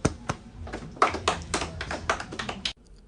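A church congregation claps after prayer, a quick run of sharp, uneven hand claps at moderate distance that stops abruptly near the end.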